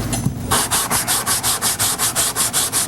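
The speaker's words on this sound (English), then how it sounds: "Well, Scott, we're going to use a 120 grit sandpaper with a hard rubber block." 120-grit sandpaper on a hard rubber block is worked across auto body panel in a car care auto body repair demonstration, giving a steady rhythm of about a dozen firm back-and-forth rasping strokes, close and loud, after a brief quieter start.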